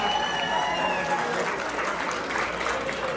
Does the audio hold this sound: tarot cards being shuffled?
no